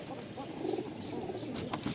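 Pigeons coo softly in a loft, low throaty warbles repeating over a faint steady background.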